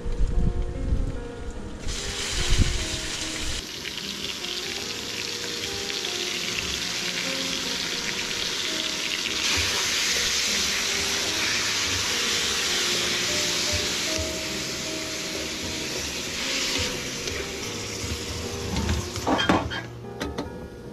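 Meat for Filipino menudo goes into a hot pan and sizzles loudly and steadily, with clanks of a pan and utensil at the start and near the end, no speech heard.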